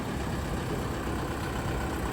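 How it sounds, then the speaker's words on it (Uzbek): A FORA 904 tractor with a turbocharged engine idles nearby, a steady, loud mechanical rumble and hum that holds even throughout with no voices over it. "Fora brendiga tegishli 904-90 kuchli 5 kabinali turbinali Bartoy bo'lgan"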